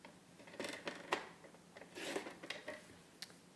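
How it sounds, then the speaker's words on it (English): Whisper White cardstock being cut down on a paper trimmer: a few quiet, quick slicing and scraping strokes with small clicks, separated by short pauses. "I'm going to take my piece of Whisper White, and I'm going to cut this down to 1 inch"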